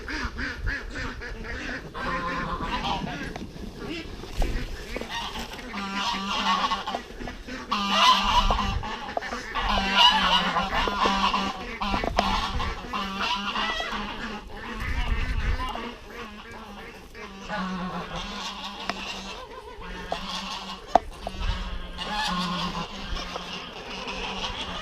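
Ducks quacking and honking as they come out of their house, a busy flock of near and overlapping calls over steady background noise for the whole stretch.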